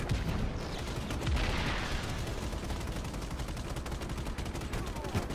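Rapid bursts of automatic gunfire from the action video game Just Cause 3, fairly quiet and distant, crackle in repeated volleys across several seconds amid game ambience.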